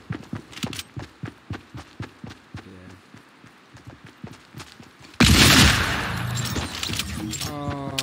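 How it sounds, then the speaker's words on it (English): Fortnite gunfire: a quick run of soft, evenly spaced pops like rapid distant shots, then a sudden loud burst of blast noise that lingers, with a voice in the background. "Oh, you're shooting at me."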